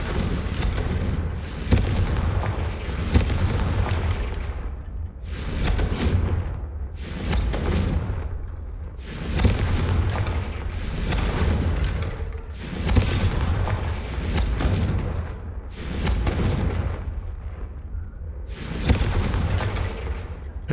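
Repeated Confringo blasting spells from the video game Hogwarts Legacy, about ten loud booming explosions fired in steady succession every couple of seconds, each with a sharp burst and short rumbling tail.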